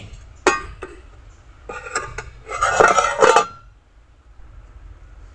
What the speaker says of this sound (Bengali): পনেরো মিনিট পরে ঢাকনা খোলা হচ্ছে